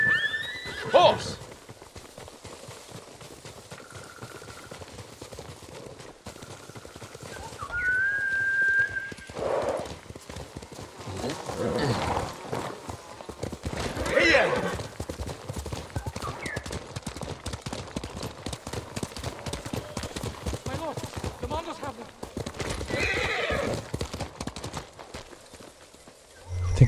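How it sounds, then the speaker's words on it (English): Horse neighs and hooves clip-clop in Ghost of Tsushima, a whinny rising near the start and hoofbeats running steadily through the ride under background game sounds and intermittent voices. "Let's go, horse!"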